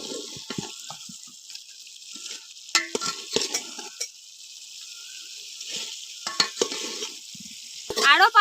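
Prawns and fried potatoes are sautéed for prawn biryani, with a steady sizzling hiss and scattered scraping stirs from a spatula against the pan, plus a louder clatter near the end.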